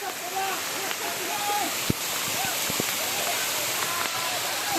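A steady, continuous roar of a monsoon waterfall in the Sahyadri hills fills the scene, with voices faintly audible over the wash.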